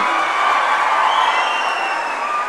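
Steady, dense applause and cheering from a crowd of newly appointed job candidates at a government appointment ceremony, even and continuous, with no voices heard.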